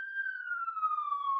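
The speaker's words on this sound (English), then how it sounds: "I'm sorry about the sirens, everybody." A police siren wails steadily outside, a long sustained tone slowly falling in pitch, fairly clear and with no voices over it.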